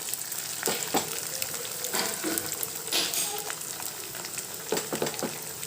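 Marinated beef frying in a hot pan, a steady crackling sizzle with sharper spits and pops scattered throughout, fairly close and alone without voices.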